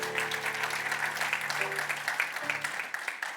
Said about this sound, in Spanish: Denle ese aplauso fuerte a Cristo, porque Él es bueno.